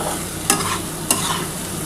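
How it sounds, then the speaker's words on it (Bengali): Spice paste for a lentil dumpling curry is sautéed in a pan with a steady close sizzle, punctuated by two sharp scrapes of the spoon stirring it. "খুব ভালোভাবে আগে প্রথমে মশলাটা কষিয়ে নিচ্ছি"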